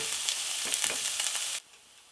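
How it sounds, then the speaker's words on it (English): Onions fry in a pan while being stirred, a close, bright hissing sizzle with a few soft scrapes, running steadily before cutting off abruptly near the end. "We're going to cook this for about 4 minutes or so while stirring every minute or so."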